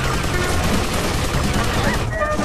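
Rapid gunfire in the video game GTA Vice City as shots are fired at cars, a dense continuous burst of shooting throughout, with a voice faintly under it.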